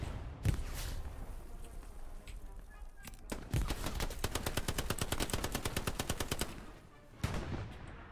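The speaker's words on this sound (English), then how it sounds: "provide covering fire for the medic!" Gunfire in Hell Let Loose, a WWII shooter: scattered shots early, then a sustained rapid machine-gun burst from about three to seven seconds, steady and fairly close, with a final loud shot near the end.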